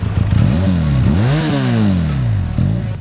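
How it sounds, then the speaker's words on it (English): A Benelli Leoncino 500 motorcycle engine revs up and down in two swelling pulls, its exhaust giving a deep, throaty rumble close by, with no talking. "the most exciting thing about this powertrain is its exhaust noise"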